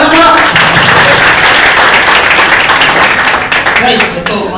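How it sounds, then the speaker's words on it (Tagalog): Loud, dense applause from an audience at a product presentation, a continuous close burst of many clapping hands that thins out near the end. "Palakpakan naman po"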